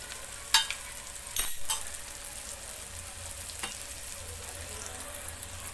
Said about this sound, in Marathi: मटारला 5 मिनिटं आपल्याला तेलामध्ये असं परतून घ्यायचं आहे छान